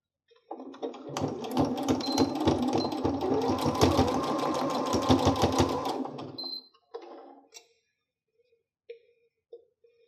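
Close and steady, a sewing machine runs one continuous burst of about six seconds stitching a seam along the short side of a fitted fabric face mask, then stops, followed by a few soft handling clicks.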